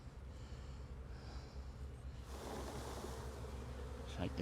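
Steady buzzing of many honey bees hums close by throughout, with a brief louder rustle near the end.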